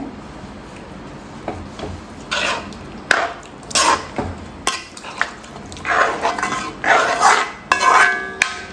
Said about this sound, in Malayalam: എന്നിട്ട് നമുക്ക് നന്നായിട്ടൊന്ന് ഇളക്കി കൊടുക്കാം.